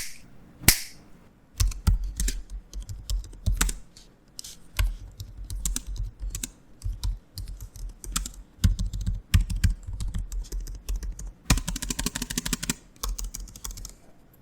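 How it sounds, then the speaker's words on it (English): Rapid clicking of an Asus ZenBook 14 laptop keyboard being typed on, quick irregular bursts of keystrokes up close, ending in a fast flurry. "let's have a quick sound test of the keyboard"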